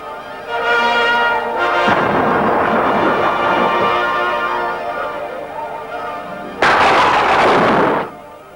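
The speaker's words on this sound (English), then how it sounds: "The lightning made very bad crackles in the headphones." Lightning crackles and thunder break out during a storm: a long, loud rumbling burst of crackling noise, a short pause, then a second sharp, loud burst that cuts off abruptly.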